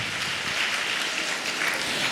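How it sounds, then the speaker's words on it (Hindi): A church congregation at a Palm Sunday service claps together, a brief, even wash of many hands at moderate loudness with no voices over it. "हम तालियां बजा के इसी को आदर करें।"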